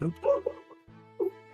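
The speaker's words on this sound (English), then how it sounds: "Sorry if you can hear my dog barking." A dog lets out a few short, near yips and barks in separate bursts with brief quiet gaps, and a person makes a short exclamation.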